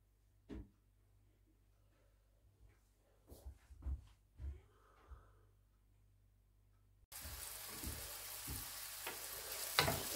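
Onions frying in a pan for a Turkish menemen: quiet utensil knocks and stirring thumps come first, then a sudden steady sizzle starts at about seven seconds and continues loudly with occasional scrapes.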